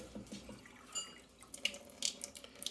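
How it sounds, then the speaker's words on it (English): Water runs from a tap into a container, a soft splashing stream with a few brighter drips and splashes near the end, close by and fairly quiet. "we'll fill that up with water"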